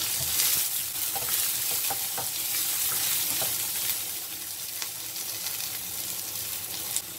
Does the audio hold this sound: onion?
yes